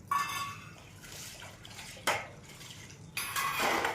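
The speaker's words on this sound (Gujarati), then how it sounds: "આ બધું વાસણ ને એવું ધોવાનું કામ ચાલુ છે" Dishes being washed in a home kitchen: pots and cutlery clatter and clink, with some running water. Sharp metallic knocks come in bursts, with quieter scraping between them and no talking.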